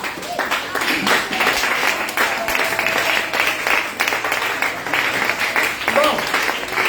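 Worshippers in a church stand and acclaim the Lord with sustained clapping and cheering, a dense continuous wash of applause mixed with voices.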